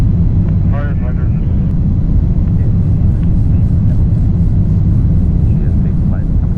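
Apollo spacecraft engine burn in the Orbiter 2016 simulator, reproducing Apollo 13: a steady, loud, continuous low rumble that holds throughout, with radio voices talking over it.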